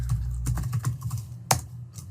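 Someone types a dir command on a computer keyboard: a short, close run of key clicks with one sharper, louder tap near the end.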